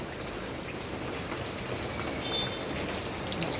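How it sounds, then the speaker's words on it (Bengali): Rain falls steadily in the Maldives near an airport, a soft, even patter of drops hitting surfaces at a constant low level with no voices. "এই যে বৃষ্টি হচ্ছে দেখতে পাচ্ছেন, এই যে বৃষ্টি হতেছে মালদ্বীপে"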